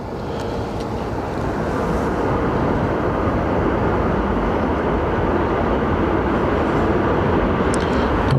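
Icelandair airliner landing at Dublin airport, a continuous heavy rumbling jet roar that builds slightly and stays loud and steady with no voices.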